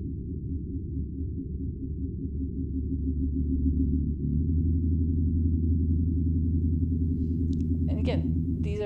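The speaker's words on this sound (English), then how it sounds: "let me play to you the blue whales as they sound off of Australia" Blue whale calls recorded off Australia and sped up four times: a steady, droning low tonal pattern with pulsing repeated units that runs throughout, loud and near, with a brief voice-like sound near the end.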